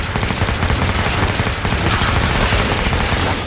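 Dense, continuous rapid gunfire in the zombie shooter Killing Floor 2, loud and close, with overlapping bursts rattling without pause throughout.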